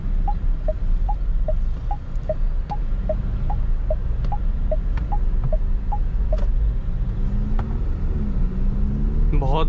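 An MG Majestor SUV driving through city streets, heard from inside the cabin as a steady low engine and road rumble with a rhythmic turn-signal ticking running through most of the stretch.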